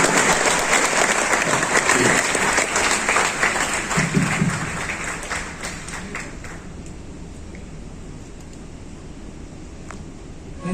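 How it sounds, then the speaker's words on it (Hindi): Schoolchildren at an Allen Career Institute event applaud together in a loud, sustained wave of clapping that gradually thins and fades away. "बच्चों तालियां बंद नहीं"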